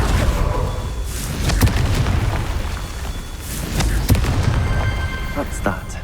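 Repeated Confringo blasting spells go off in Hogwarts Legacy as a series of sharp booms and crackling bursts about every second or two, loud and close over continuous rumbling game ambience.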